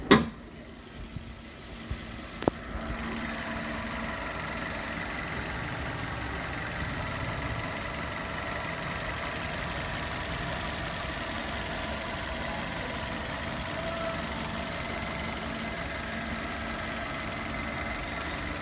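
Engine of a used Maruti Baleno automatic idling with a steady, even hum from start to finish, after a few brief clicks and knocks at the very beginning; no one speaks.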